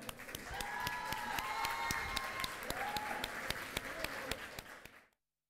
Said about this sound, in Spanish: Los recibimos con un cariñoso aplauso.